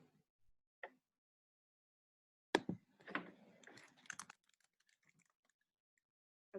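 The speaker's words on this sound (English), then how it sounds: "I was just typing to see" Brief bursts of typing on a computer keyboard, soft and close, with scattered clicks and a short cluster of keystrokes amid near silence.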